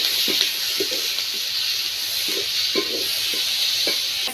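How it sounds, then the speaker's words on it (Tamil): Tomatoes and onion frying in a pan, a steady soft hiss with a series of brief spoon scrapes and stirs at irregular intervals. "இப்போ தக்காளி சேர்த்துக்கிறேன்."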